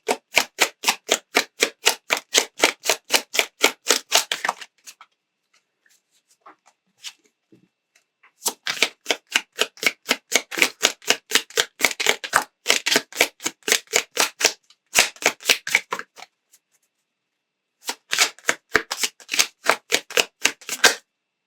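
Playing cards are shuffled in several long bursts of rapid, crisp fluttering clicks, separated by brief quiet pauses.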